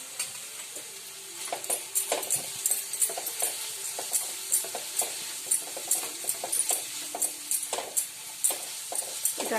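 Potatoes fry in oil in a home kitchen pan, a steady bright sizzle punctuated by repeated scraping stirs of a spatula in an uneven rhythm, close and without talk.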